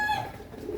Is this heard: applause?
no